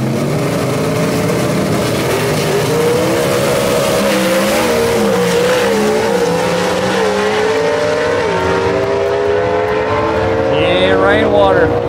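Gasser drag race cars roaring at Knoxville Dragway, with loud sustained engine tones rising and shifting in pitch as they accelerate. A race announcer talks throughout.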